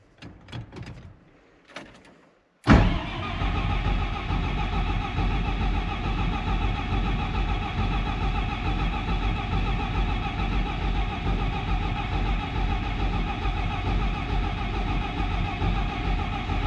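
After a few knocks and clunks, a vehicle engine turns over and catches once the injector lines have been bled, then settles into a loud, steady idle that holds for the rest of the clip.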